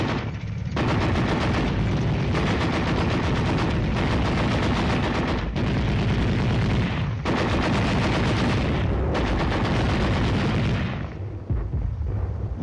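Heavy enemy gunfire during a night tank operation, a loud continuous barrage of bursts and booms with brief pauses, dense and close throughout.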